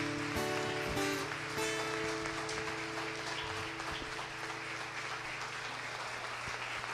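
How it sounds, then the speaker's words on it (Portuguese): Applause from a congregation during a church service, a dense steady patter of many hands clapping, sustained throughout with faint music tones underneath. "Na salva de palmas para o Espírito Santo."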